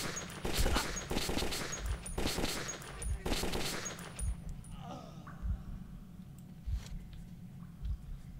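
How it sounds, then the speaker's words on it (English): Bursts of automatic fire from the Bastard gun in the Metro 2033 video game come in rapid rattling volleys early on, then give way to scattered lighter shots and thuds at lower level. "And let's take out a bastard gun."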